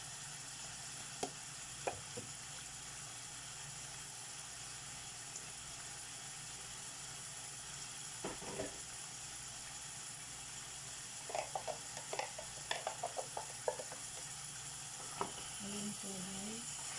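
Chicken and potatoes cook in a pan with a little tomato blend, a low steady sizzle broken by a few scattered clicks and scrapes of stirring, with no talk over it.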